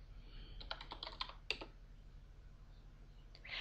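A command is typed on a computer keyboard in a quiet room, a quick run of faint light key clicks followed by a single firmer tap, then near silence.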